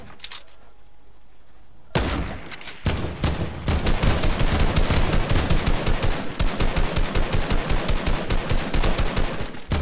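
Sustained rapid automatic gunfire from a video game shooter starts suddenly after a quieter opening. The loud, close bursts run almost nonstop for the rest of the clip.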